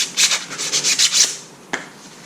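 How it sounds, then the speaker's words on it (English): Sheets of 400 grit sandpaper rub around a used bushing from a 68-72 Nova rear suspension, a quick run of rhythmic scratchy strokes up close, then a pause and one last brief swipe. "400 grit sandpaper. I'm just going to go around this bushing because it was used before. Just to clean it up, get any burrs off of it created."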